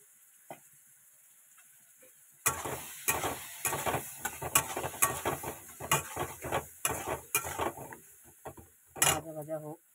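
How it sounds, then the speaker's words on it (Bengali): Katla fish pieces fry in a pan with salt and turmeric, a steady sizzle under repeated scraping and clattering stirs, close and fairly loud after a quiet start. "ভাজা ভাজা হোক।"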